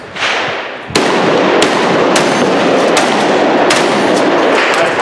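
A tactical shotgun is fired outdoors during shooting practice: several sharp, loud reports at uneven intervals, each trailing into a noisy, reverberant wash, with no speech between them.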